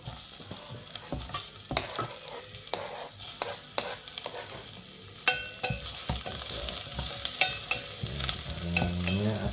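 Fresh garlic and onion sauté in a hot pan, a steady crackling sizzle broken by repeated scraping stirs and clicks of a utensil, growing denser and louder toward the end.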